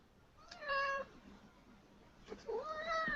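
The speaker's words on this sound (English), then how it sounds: "Damn cat." A cat meows twice nearby, two drawn-out, whiny calls about two seconds apart over a faint room hiss, with nobody talking.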